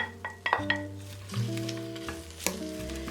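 Onions sizzle alongside browned meat on a Corningware Electromatic table range set near 350, a steady crackle with a few clinks and stirring scrapes over a background hum.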